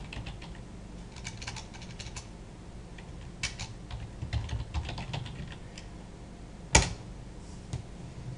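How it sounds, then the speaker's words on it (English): Typing on a computer keyboard, soft irregular key clicks in bursts with a few sharper taps and one loud clack near the end, close and quiet with no voices. "we will type in HTTP and then book library"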